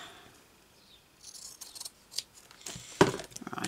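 Scissors cutting paper or card while making a handmade gypsy book, a few soft snips and rustles building to a sharp close cut near the end.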